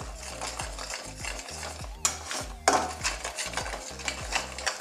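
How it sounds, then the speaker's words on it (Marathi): Mysore pak mixture of gram flour and ghee stirred continuously in a pan over a low flame, with rhythmic scraping strokes, occasional metallic clinks and a low bubbling, no talking. "एक सारखं हलवायचं, गॅस थोडं बारीक करायचं। एक सारखं हलवत राहायचंय त्याला।"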